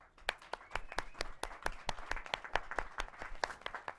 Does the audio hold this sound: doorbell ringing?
no